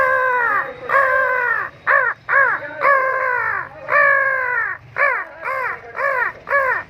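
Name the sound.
man imitating a crow's caw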